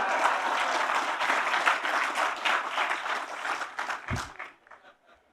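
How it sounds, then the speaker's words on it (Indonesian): A crowd at a political speech claps loudly and steadily for several seconds, then the applause thins out and fades away. "yang paling keras tepuk tangan"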